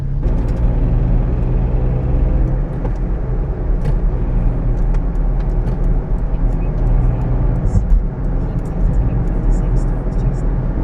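A Toyota Aygo accelerates onto a busy motorway at rush hour, a deep steady engine and road rumble filling the cabin while someone talks over it.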